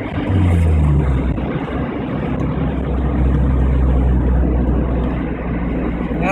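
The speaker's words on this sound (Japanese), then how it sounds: "やはり3速からだと気持ちよくエンジンも回りますので" A Suzuki Alto HA36S engine pulls through third gear with a loud, continuous drone as the car drives along, the pitch climbing early and then holding steady, with no voices heard.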